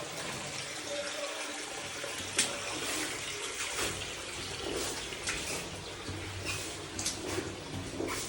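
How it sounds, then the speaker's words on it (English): A small bilge pump drains the flooded back section of an abandoned gold mine, its water rushing steadily out of the portal in a continuous broadband splash with a few brief knocks, with no voices. "It's pumping a good amount of water,"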